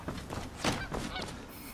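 A duck quacking and honking in the video game Skyrim, a few rough calls close together over a steady game background.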